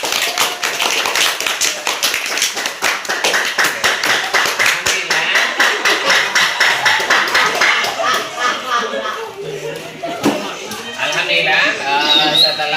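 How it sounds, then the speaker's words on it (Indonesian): A classroom of students claps for all the groups, with dense rapid applause lasting about ten seconds before tapering off into murmuring voices and a few scattered claps. "tepuk tangan untuk semua kelompok ya."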